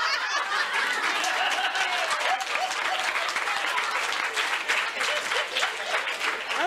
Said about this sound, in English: I think you ought to applaud now.